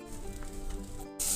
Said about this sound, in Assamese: কেৰাহী গৰম হৈ গৈছে গতিকে ইয়াত মই এতিয়া 1 চামুচ বাটাৰ দি দিছোঁ